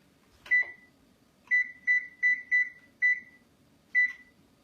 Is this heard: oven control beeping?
yes